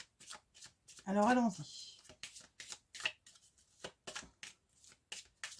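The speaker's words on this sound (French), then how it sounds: "Donc on va tirer 3 lames et on va commencer par la coupe." A Tarot Flamboyant card deck being shuffled and cut, with quick papery riffles and slaps mixed under steady French speech throughout.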